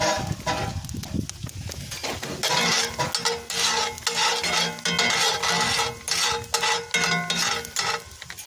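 Rib eye steak with onions searing on a hot grill, a steady crackling sizzle with clinks of cookware and stirring scrapes, loud and close throughout, no talking.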